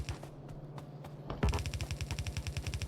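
Gun turrets firing in the video game Factorio, a rapid machine-gun rattle of evenly spaced shots that starts abruptly partway through and continues steadily and loud to the end.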